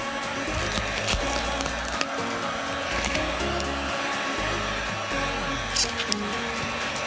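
A heat gun blows a loud, steady whooshing roar while heating vinyl wrap on a car antenna, running continuously at close range with slight shifts in tone as it moves. No one speaks.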